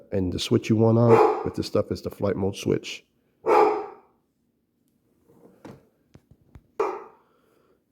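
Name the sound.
dog barking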